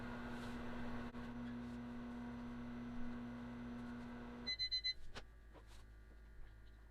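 A microwave oven hums steadily while melting a melt-and-pour soap base, then stops and gives a run of beeps at the end.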